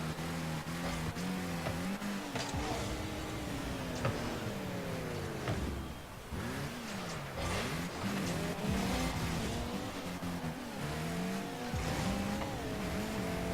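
Cars in an eSports video game match race and skid around the arena with whining engine tones and repeated rising and falling revs. Tire squeals break in over a busy, continuous mix of motor noise.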